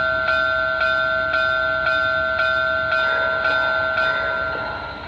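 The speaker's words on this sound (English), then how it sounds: "Function 1 is your bell." Steady, evenly spaced dings of the bell sound effect on a BLI Reading T-1 model steam locomotive ring out loud and clear, about nine strikes in a row, with no talking over them.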